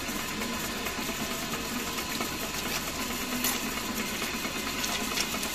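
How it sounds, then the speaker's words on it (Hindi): A faulty household electric water pump motor runs steadily, a dense constant hum and whir mixed with rushing water, loud and unchanging throughout with no one speaking. "आपने देखा हमने मोटर चलाया"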